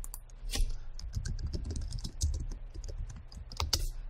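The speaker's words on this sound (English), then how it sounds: "So we just type in the name of the file." Typing on a computer keyboard: quick, irregular runs of close, crisp key clicks, with no talking.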